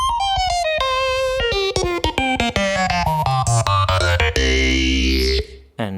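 An EDM-style funky synth lead from Phase Plant, heavily compressed with OTT, plays a rapid, bright, buzzy run of notes that slides steadily downward before settling on a sustained, thick final tone.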